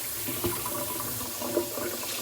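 Water runs steadily from a tap into a sink for a couple of seconds, a continuous close hiss and splash with small gurgling bursts, and no one speaks.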